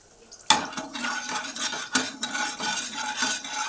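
Oil is stirred in a hot wok with a spatula, a sharp metallic scrape opening a run of scraping strokes with light frying hiss beneath, close and without talk.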